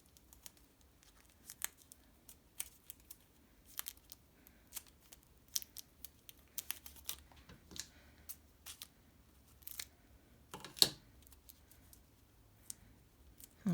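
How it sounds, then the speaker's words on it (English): Tape pulled and wrapped around two pieces of an aroma-bead air freshener craft, heard as faint, scattered crinkles and short tearing rasps in a quiet room, with one louder rip near the end. "I'm going to wrap this tape around both pieces now."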